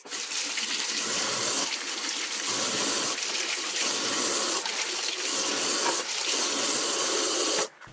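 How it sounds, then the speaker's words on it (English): Tap water runs in a steady, loud gush, splashing and shifting as vegetables are rinsed under it, then cuts off at the end. "you always want to rinse all of your produce"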